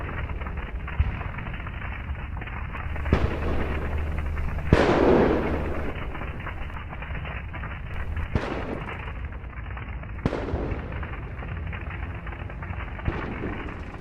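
Shells detonate in a burning Russian military convoy hit by HIMARS strikes, with a series of sharp, booming blasts and crackling secondary explosions spaced a few seconds apart over a constant low roar.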